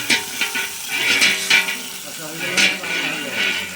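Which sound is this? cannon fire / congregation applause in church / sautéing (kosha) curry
sautéing (kosha) curry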